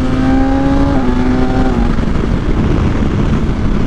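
BMW S1000XR sport touring motorcycle engine screaming at high RPM, with quick, clean quick-shifter upshifts stepping the pitch down, loud and close against steady wind rush.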